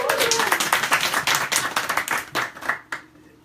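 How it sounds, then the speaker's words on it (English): A church congregation at a Sunday service claps for an absent member, a dense burst of many hands applauding together, fairly close and lively, then thinning out and fading near the end. "Let's clap for Barbara."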